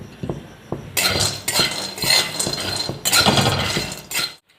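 Peanuts being dry-roasted in a pan for Khandeshi green chilli thecha, with repeated scraping and clinking of a metal spatula against the pan in steady bursts. The sound is close, moderately loud and carries no talk.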